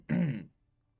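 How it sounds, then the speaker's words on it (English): A single short, low throat clearing, fairly quiet and close, followed by near silence. "heard my wife clear her throat"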